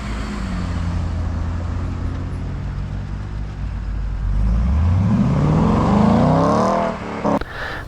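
A 2003 Chevrolet Corvette Z06 pulls away: its engine idles, then revs up through rising gears as it accelerates off, growing louder before cutting off near the end.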